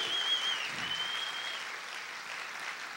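A congregation applauding in church, a steady wash of dense clapping at moderate level, fairly even throughout with a faint high tone running over it early on.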